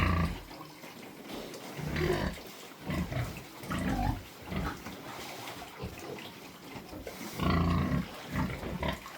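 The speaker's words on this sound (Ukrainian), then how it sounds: "Це теж ремонтна свинка" Pigs grunt and snort in bursts at feeding time, close and messy, with wet slurping and splashing sounds between the grunts.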